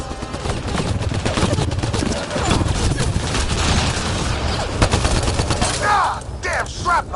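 Dense, continuous gunfire and blasts rage in the Mass Effect Andromeda video game played on PS5, loud and chaotic throughout, with shouting voices mixed into the battle.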